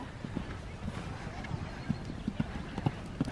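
Hooves of a horse ridden bareback clip-clop in a steady rhythm at a riding lesson, with some faint talking in the background.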